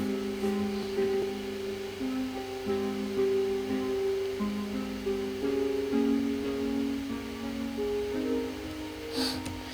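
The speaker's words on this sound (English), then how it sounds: "I found a little filter that makes the melody sound a little bit different." A soft synth melody with a muffled, filtered tone steps through a series of sustained notes over a quiet steady background.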